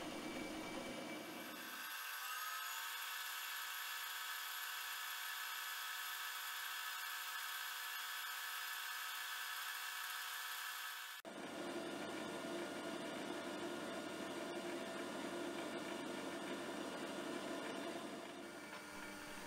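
A power tool grinds mill scale off mild steel stock, a continuous high whine with shifting pitch, brief gaps and a change in tone partway through, fairly quiet overall.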